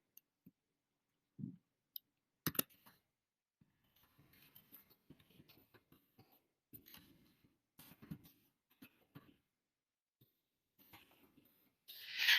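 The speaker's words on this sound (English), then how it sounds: "You have to click right here and click edit." Sparse, sharp computer mouse clicks while editing in Jamboard, scattered across a quiet background, with faint rustling and small handling noises in between.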